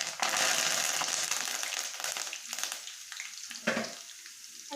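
Mustard seeds, cumin and curry leaves drop into hot oil for a village-style ponnaganti leaf charu, bursting into loud crackling sizzle that gradually settles into a softer, steady fry.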